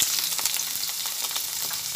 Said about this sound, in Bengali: যে কুচানো পেঁয়াজগুলো রেখেছিলাম সেগুলো তেলের মধ্যে দিয়ে দিচ্ছি।